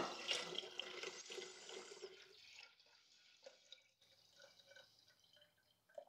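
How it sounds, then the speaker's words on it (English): Water pours into a one-gallon jar of sweet tea with starter. A close, splashing fill runs for a couple of seconds, then dies away into a few faint, scattered drips and trickles. "And now I'm just going to add water up to the 1 gallon mark."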